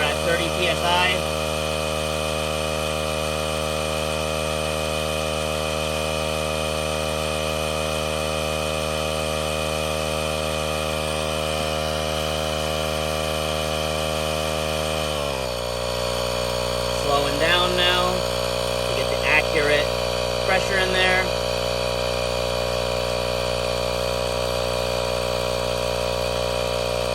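A portable ETENWOLF Zephyr S3 tire inflator air compressor runs with a steady, loud motor drone and buzzing hum, its pitch dropping partway through as the load changes, with a person speaking intermittently over it.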